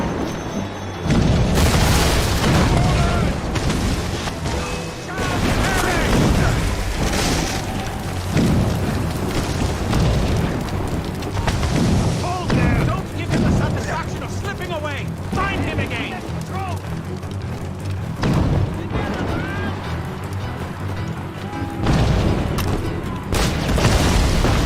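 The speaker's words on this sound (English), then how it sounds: "Chevalier's using mortars to start Shay!" Mortar fire in the naval combat of Assassin's Creed Rogue: a dense, continuous barrage of heavy booms and blasts layered with battle noise and shouting voices throughout.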